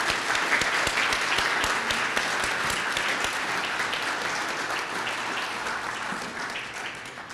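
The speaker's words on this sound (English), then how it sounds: "Let's give them a round of applause." Conference audience at an awards ceremony applauding the event staff, a dense, steady wash of many hands clapping that fills the room and slowly tapers off, with no talking over it.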